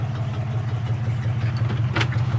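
A 1967 Ford Mustang coupe with dual exhaust idles with a steady, low, throbbing rumble close by, and a brief sharp clatter comes near the end.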